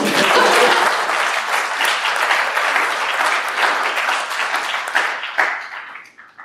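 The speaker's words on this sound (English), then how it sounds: "Yeah, you may applaud." A hall audience bursts into loud, sustained applause for Europe Day, the dense clapping holding steady for several seconds before thinning out and fading at the end.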